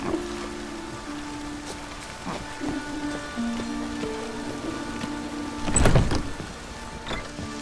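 Steady rain falls in The Witcher 3, a dense hiss of drops running under a game soundscape with tonal hums and a few brief knocks, and one louder burst near the end.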